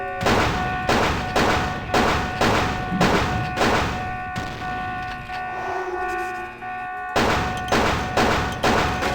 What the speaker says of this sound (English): quick way to solve this is just to shoot these flaming tanks